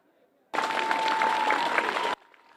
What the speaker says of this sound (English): Sounds of cheers and applause brought some solace to the somber environment.